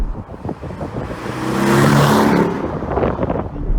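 A 2018 Porsche 718 Cayman S mid-engine sports car accelerates on the road, its engine note rising to a loud swelling roar in the middle and easing off, with wind rush around it.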